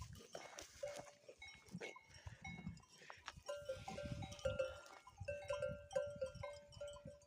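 Sheep and lambs on a mountain farm bleat repeatedly at close range, in short wavering cries spread irregularly across the scene, amid rustling and movement sounds and some faint background voices.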